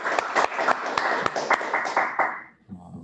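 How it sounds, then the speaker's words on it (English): A small group claps at the end of a Geomundus 2020 conference talk at the Lisbon headquarters. The scattered, sharp claps last a few seconds and fade, and a voice briefly follows. "applause from our headquarters in Lisbon, and virtual applause, please"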